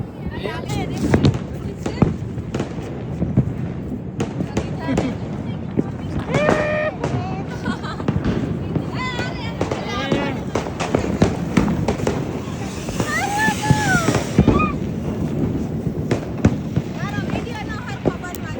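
Sharp festival firecracker bursts crackle repeatedly, some near and loud, over a busy outdoor background with people talking and children's voices.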